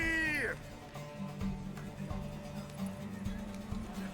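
Horse hoofbeats in a fantasy role-playing game during a race, a steady rhythmic clip-clop of galloping hooves over a droning musical background, preceded by a brief whinny-like rising call at the start.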